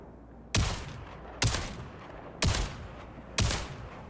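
Four loud, sharp gunshots from the video game Star Citizen fired at shooting targets one at a time at an even pace, each with a short echoing tail over a low steady hum.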